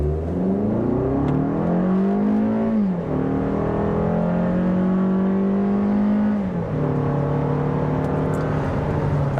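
A 2023 Lexus NX 250 pulls away from a dead stop, its engine note climbing steadily through two upshifts with brief dips between gears, loud and continuous from inside the cabin with no talking.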